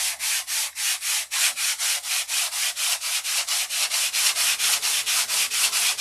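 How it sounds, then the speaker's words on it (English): Steady hand sanding with 180 grit sandpaper, a fast rhythmic rasp of back-and-forth strokes, about three per second, loud and close with nothing else audible. "What I'm doing now is I'm taking out the scratches that the 80 grit left in."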